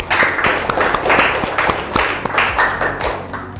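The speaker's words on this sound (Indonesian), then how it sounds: "tepuk tangan untuk kita semua dong" Students in a classroom clap together in a short burst of loud, close applause, the claps landing in a rough rhythmic pulse.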